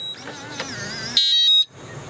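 An RV keyless entry door lock whirs briefly as its mechanism works, then gives a single loud, sustained electronic beep before falling quiet.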